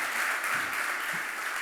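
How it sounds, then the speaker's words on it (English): An audience applauds to welcome Shobha De to center stage, a brief, steady wash of dense clapping with no voices over it. "you could give Ms. Shobha Dey a huge round of applause"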